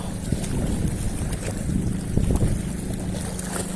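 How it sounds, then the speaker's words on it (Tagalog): Gusty wind roars over a fishing boat on the water, a continuous low rushing with faint wave wash and a brief stronger gust midway, no voices. "Lakas ng hangin."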